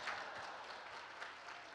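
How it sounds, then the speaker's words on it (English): Steady applause from a crowd at a civic State of the Cities event, dense and continuous clapping throughout with no voices over it. "Please go ahead and clap as you feel free."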